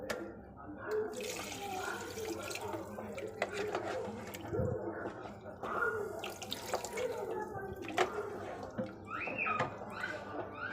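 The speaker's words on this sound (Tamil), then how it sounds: "இந்த உருளைக்கிழங்கு வேகிற அளவுக்கு நம்ம தண்ணி இதில் சேர்த்துக்கலாம்." Water pours and splashes into a pan of potatoes and meal maker curry with clinking and shuffling kitchen noises, running steadily throughout at moderate loudness.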